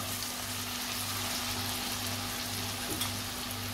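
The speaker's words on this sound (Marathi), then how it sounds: "कांदा चांगला शिजवून घ्यायचा आहे।" Onion sizzling steadily in a pan for a Maharashtrian chavli batata (black-eyed pea and potato) bhaji, a continuous broadband frying hiss with a low steady hum beneath, no talk.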